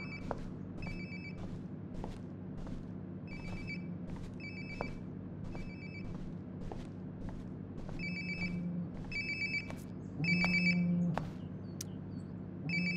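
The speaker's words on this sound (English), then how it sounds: "Sounds like my phone is definitely nearby." A ringing mobile phone in the video game Life is Strange 2 sounds nearby, a repeating electronic ring pattern over a steady low ambient hum, growing a bit louder toward the end.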